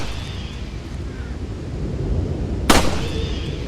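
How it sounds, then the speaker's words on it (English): A single sharp gunshot fired at scarecrows in a village in Resident Evil 4, cracking out once over a steady windy, rumbling ambience. "I am actually going to shoot them"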